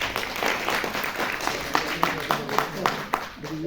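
Applause at a book release function for the book "FAASLEY" by Star Singh, trophy presentation to guests, a mix of scattered hand claps under a speaking voice, with a few sharper individual claps standing out toward the end.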